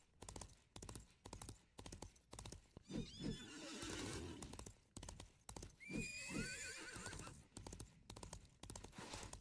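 A horse named Maximus whinnies and snorts, with two drawn-out neighs set among rhythmic clip-clop hoofbeats, heard quietly and at a distance.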